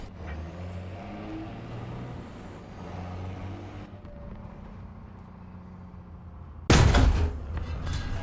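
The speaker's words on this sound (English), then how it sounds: "That was a big one. Big explosion." In a tank video game, a rumbling engine drone with a rising and falling whine gives way after a quieter stretch to a sudden, loud explosion whose boom decays into a lingering rumble.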